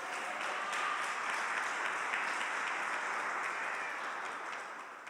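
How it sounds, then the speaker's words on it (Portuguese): A church congregation applauds together during a worship service, a dense, even wash of clapping that holds steady for several seconds and eases slightly toward the end. "Aplauda ao Senhor no seu lugar."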